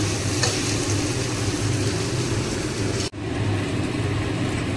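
Chopped onions with slit green chillies and a pinch of salt frying in a pan, a continuous close sizzle with stirring scrapes, broken briefly by a sharp cut before the sizzle resumes.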